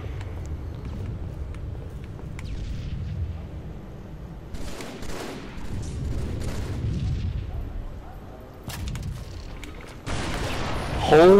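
Rocket launcher blasts in a multiplayer shooter game, heavy booming explosions rolling under continuous gunfire and game noise, with a couple of sharp bursts later and a loud hit at the very end.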